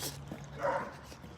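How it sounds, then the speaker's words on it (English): A German Shepherd on a walk gives a single short, faint bark partway through, heard at a distance over quiet outdoor background. "bark a little bit"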